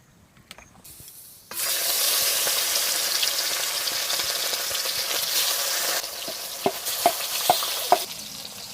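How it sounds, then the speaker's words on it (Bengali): Fish frying in hot mustard oil: after a quiet start, a sudden loud, steady sizzle fills the pan, with a few sharp clicks and taps of utensils near the end and no talking. "আসুন তাহলে মাছটা ভেজে নিচ্ছি।"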